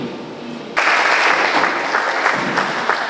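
Audience applause erupts suddenly at a press conference for Vodacom and Itel in South Kivu, a dense sustained clapping from a crowd that continues loudly to the end.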